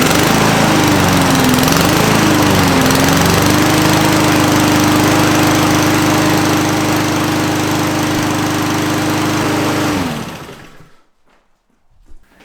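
A Honda GCV 160 engine on a Husqvarna lawn mower runs loud and steady at close range for about ten seconds, then shuts off and winds down into near silence.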